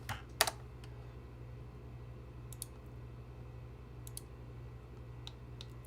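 Quick, light clicks from a computer mouse or keys at a desk during 3D CAD work, a few isolated taps spread across a quiet background hum, close and faint.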